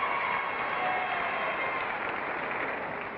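A game show studio audience claps in a steady, moderate wash, fairly even throughout and tapering slightly at the close, with no voices over it.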